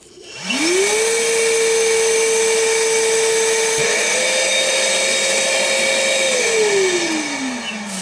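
Milwaukee M12 Fuel cordless vacuum (0960-20) running on high, its motor whining up quickly and holding a loud steady tone for several seconds while it sucks air from a bag, then pitching down as it winds off.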